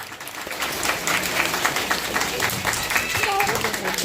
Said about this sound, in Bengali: তো ওনাদের জন্য একটা জোরে হাততালি হয়ে যায়